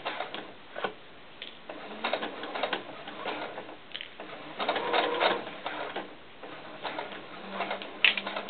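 A sewing machine stitches a floral doll skirt in uneven bursts of rapid mechanical clatter, stopping and starting with short pauses, close and fairly loud.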